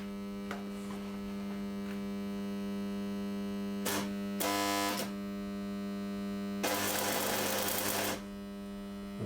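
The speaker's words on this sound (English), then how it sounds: "Just a spot weld we'll do on this." A steady electrical hum runs throughout as a welder spot-welds pins onto the lower drawstop arms of a small continuo organ, with two short buzzing bursts and one longer harsh crackling burst.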